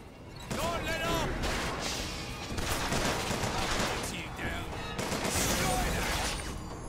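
Gunfire erupts in the video game Bioshock Infinite, bursts of rapid shots and impacts crackling in clusters amid game combat noise, with voices speaking over the action.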